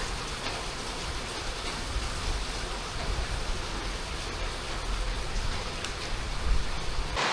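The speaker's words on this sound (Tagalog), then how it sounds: "ang lakas ng ulan" Steady, dense rainfall pours down during a storm, a heavy continuous hiss with no voices.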